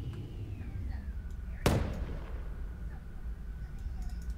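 A single sharp, booming gunshot from the space-combat PC game Legends of Azulgar cracks out once mid-clip, then fades over a low, steady ambient rumble and a faint sweeping tone.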